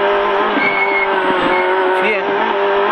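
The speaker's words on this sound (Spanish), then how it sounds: "Frenando mucho." A Peugeot 106 rally car brakes hard on a special stage of a rally, its engine droning loudly and steadily from start to finish with faint tire scrubbing as it slows.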